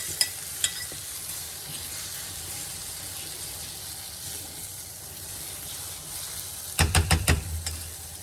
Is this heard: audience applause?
no